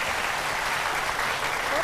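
An audience at a stage show applauds in a steady, even wash of clapping that carries on throughout, with a voice speaking over it.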